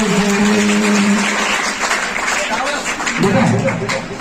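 An audience claps together at a Bhagwat Katha, a dense wash of applause heard close and loud, mixed with voices and devotional sound throughout.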